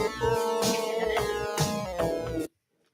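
Electronic chiptune-style game sound effect from Spelunky, layered bright tones and a steady pulsing rhythm over about two and a half seconds, cutting off abruptly to silence.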